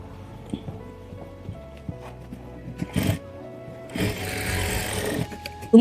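A sewing machine stitches a half-inch seam along the back neck of a blouse, running in short intermittent bursts with clicks and pauses between, then a longer steady run near the end.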